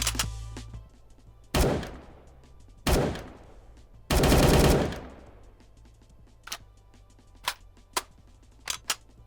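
Refreshed AUG rifle sound from the video game BloxStrike: several loud, close single shots with ringing tails, one longer burst, then fainter clicks and handling sounds, no voices.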